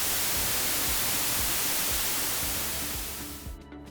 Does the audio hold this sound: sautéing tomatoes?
no